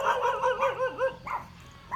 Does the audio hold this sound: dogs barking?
yes